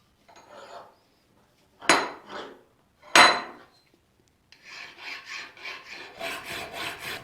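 A hand file rasps across a Showa front fork slider from a Honda CR250 to remove scratches, in short separate strokes that turn into a quicker run of repeated scrapes, close and loud.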